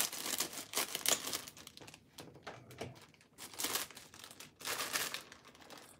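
Food-only kitchen scissors snip through cabbage for Korean street toast, giving a run of crisp, crunchy cutting and crinkling sounds in irregular bursts, close and fairly loud.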